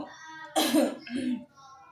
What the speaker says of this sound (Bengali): গলায় একটু কাশি।